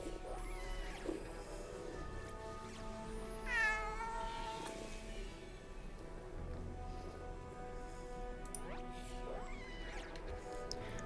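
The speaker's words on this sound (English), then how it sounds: "on the Bright Dust page, we have the Incorporeal Cat from from Episode Echoes" Repeated meows from the Incorporeal Cat in the video game Destiny 2, several drawn-out cries over a steady, rain-like background hiss, clear and fairly close.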